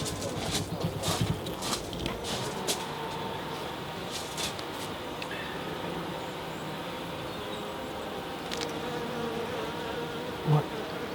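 Honeybees buzz in an open hive during a colony inspection while varroa mite treatment is being checked. The dense, continuous hum comes from close by, with a few faint knocks and handling sounds.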